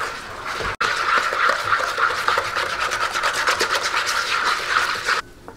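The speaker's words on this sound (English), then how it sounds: "whisk this" Whisk beating a molasses cookie mixture by hand in a bowl, a quick steady run of close scraping, rhythmic strokes for about five seconds.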